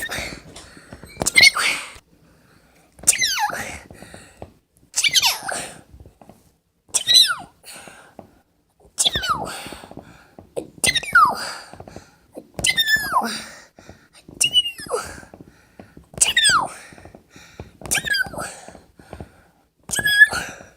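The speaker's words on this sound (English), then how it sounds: "It's my sneeze." A person sneezes again and again, about ten sharp, squeaky bursts spaced a couple of seconds apart, each with a high, cat-like pitch, close and clear with breathy pauses between.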